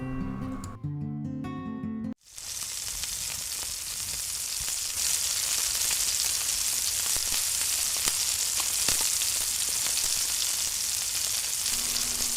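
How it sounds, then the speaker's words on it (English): Chicken tikka skewers go onto an oiled griddle pan over medium heat. After brief tonal music, a loud broadband sizzle starts suddenly and holds steady and close for about ten seconds, with faint crackles inside it. "heat your griddle pan and brush some oil and set heat to medium and place your skewers"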